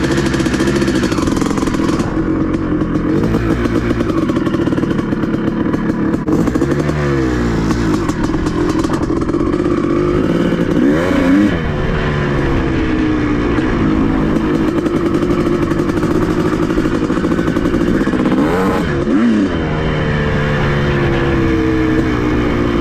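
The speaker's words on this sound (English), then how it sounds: "I got this 500 running, and I'm going to try to get the carb tuned because it doesn't seem to want to rev out" A 1984 Honda CR500 two-stroke dirt bike engine, newly running after decades and struggling to rev out, blats loudly and close by with repeated throttle blips and rising, falling revs.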